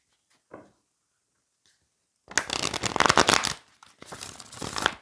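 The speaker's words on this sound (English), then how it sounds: "I hope the shuffling isn't too loud. It's near the mic." Tarot cards are shuffled right up close to the microphone, in two loud riffling bursts after a mostly quiet start with a couple of faint taps.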